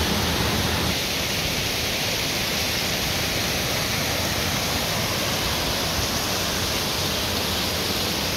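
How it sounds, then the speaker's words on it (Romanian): A waterfall at Cascadele Șipotului rushes in a dense, unbroken roar heard close to the water's edge, loud and steady throughout with no voices over it. "Superbă cascadă!"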